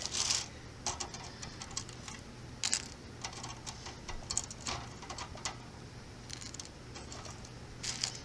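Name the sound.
dried tomatoes pulled off a dehydrator tray by hand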